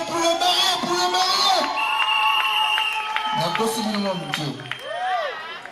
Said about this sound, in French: Et nous pouvons acclamer pour le marié